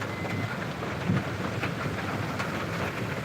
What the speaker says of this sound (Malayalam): ഇതൊക്കെ ഭയങ്കര മഴയാണ് പിന്നെ പിന്നെ മഴ കൂടിക്കൊണ്ടിരിക്കുകയാണ്